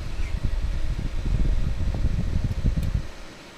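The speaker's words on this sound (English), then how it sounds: "I'm now going to go ahead and plug this fan into power." A Rocketfish RF-UPCUWR CPU cooler fan, a PWM-controlled unit, runs on power with a soft, steady airy whir and low rumble close by, easing off slightly near the end, with no talking.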